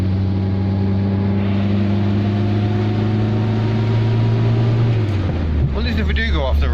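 Car driving on a gravel road in second gear on a Slovenian roadtrip, a steady droning engine hum with crunching tyre noise throughout, the engine note dropping near the end as a voice speaks over it.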